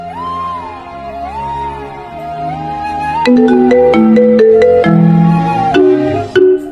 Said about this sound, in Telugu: అమ్మ ఫోన్ చేస్తుంది